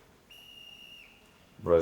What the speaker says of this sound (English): I even added those like little sample. It's like, you know, whistle, kind of like Brazilian